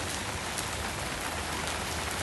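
Tropical rain falls steadily in Phuket, Thailand, a constant soft hiss of drops on surfaces near the marina, with no voices over the even wash of sound.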